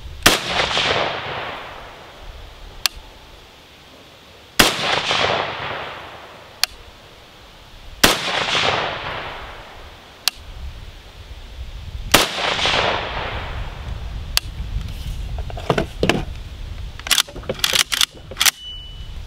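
An IWI Galil .308 rifle fires sharp, loud single shots a few seconds apart, each followed by an echoing tail. A quicker cluster of shots comes near the end.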